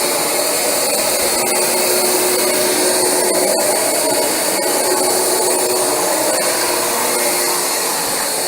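A Rug Doctor X-3 carpet cleaner making its final passes over a heavily worn carpet, giving a loud, steady motor and suction whine that runs unbroken, with no voices over it.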